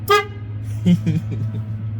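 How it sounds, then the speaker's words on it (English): A short, bright pickup truck horn toot, from a first-generation Dodge Ram, sounds at the start over a low engine hum, followed by someone talking. "These 2 wires touch together, they will sound the horn."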